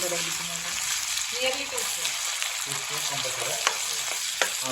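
Food frying in oil in a home kitchen, a constant loud hiss and crackle close by, with occasional stirring clinks and a faint voice murmuring underneath.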